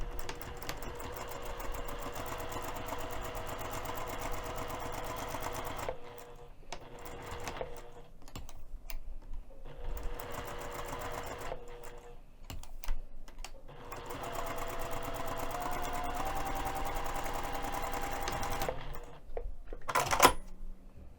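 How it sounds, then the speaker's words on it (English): Sewing machine stitching a quarter-inch seam along fabric edges for a small crossbody bag, three long runs of close, even mechanical chatter separated by short pauses, with a brief click at the end and no talking. "we're going to sew using a 1/4 of an inch seam allowance and leave 1 of the short edges unsewn"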